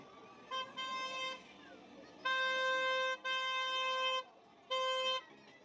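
Several vehicle horns honk in separate bursts on a street in Varanasi, a short double toot, two long sustained blasts, then another short one, loud and close over street noise.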